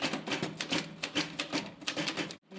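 Rapid, steady clatter of typewriter keys struck in quick succession, with crisp mechanical clacks throughout before a brief pause near the end, heard on a machine used by students learning to type in India.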